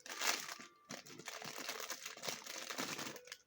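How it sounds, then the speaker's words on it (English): Plastic packaging for small grip-training accessories rustles and crinkles close up, a dense crackling texture with brief pauses running throughout, no voice over it. "I shouldn't talk when I'm rustling the plastic"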